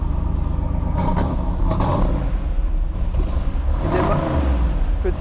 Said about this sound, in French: Petit démarrage à froid.